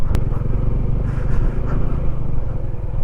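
A Honda CB150X motorcycle labouring up a steep mountain road to Daldagon Peak in Siruma, its engine a loud, steady low drone heard from the rider's position, with wind rumble and a brief click near the start.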